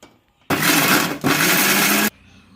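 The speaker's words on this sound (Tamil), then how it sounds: "ஆற வச்சு இப்போ மிக்சியில் போட்டாச்சு" A kitchen mixer grinder whirs loudly at full speed, grinding cooled ingredients for a Sheela fish curry, with a brief dip partway through before it carries on and then stops abruptly.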